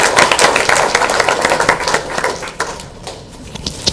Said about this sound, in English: Can everyone please give our last finalist a round of applause?